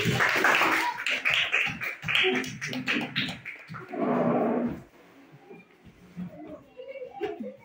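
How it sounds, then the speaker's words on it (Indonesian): Students in a classroom clap for a presenting group in bursts of fairly close, uneven clapping that fade out midway, with voices and classroom chatter continuing softly afterward. "Kasih tepuk tangan dulu."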